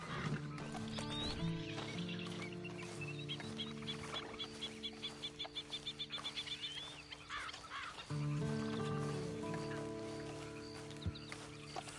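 Rhythmic horse hoofbeats clop along over a steady layer of background game music and ambient noise, with a few animal snorts mixed in, in the video game Red Dead Redemption 2 Online.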